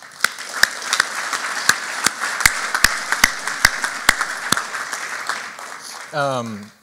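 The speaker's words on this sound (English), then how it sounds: "they deserve a good round of applause for what all they accomplished this year" An audience at a high school boys basketball awards banquet applauds, a soft crowd patter punctuated by loud, evenly spaced single claps close by, ending as a voice begins speaking.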